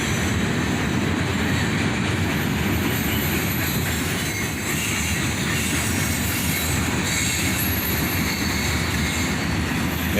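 A long Norfolk Southern freight train hauled by EMD locomotives rolls steadily past close by, its wagons giving a loud, continuous rumble and rattle of wheels on rail with faint squealing and no pause throughout.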